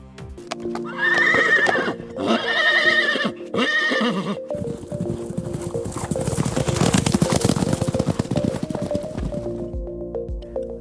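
A costly horse, valued in crores, lets out three loud, close whinnies in quick succession, followed by a steady clatter of hooves and shuffling movement.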